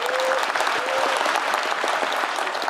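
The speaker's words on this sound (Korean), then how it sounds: "여러분 박수 크게 부탁드립니다" Audience applause at a town hall meeting in Jeonbuk, a dense steady roar of many hands clapping close and loud, unbroken throughout, with no speech over it.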